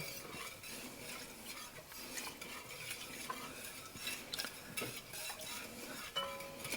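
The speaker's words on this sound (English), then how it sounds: "So here's our whisk." Whisk stirring giblet gravy in a pan over low heat, a soft continuous scraping and swishing with light metallic clicks against the pan, quiet and close, without any voices.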